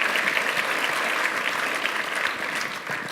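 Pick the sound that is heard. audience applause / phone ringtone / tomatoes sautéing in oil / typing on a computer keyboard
audience applause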